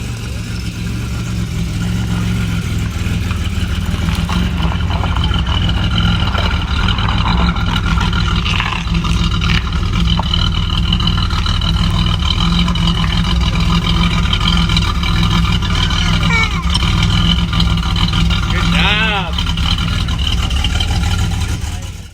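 A 1989 Camaro RS engine running steadily, a loud, close, continuous rumble with slight variations in revs, and faint background sounds but no clear talk.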